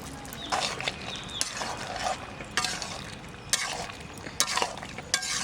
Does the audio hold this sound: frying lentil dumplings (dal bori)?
yes